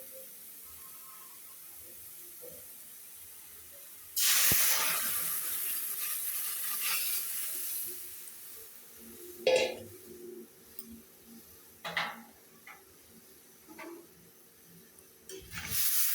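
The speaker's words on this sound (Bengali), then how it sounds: "এখন আমি ডালটা দিয়ে দিব।" Lentils dropped into onions fried until reddish for a masoor dal with drumsticks give a sudden loud burst of sizzling, which fades into a steady hiss broken by sharp clinks of stirring.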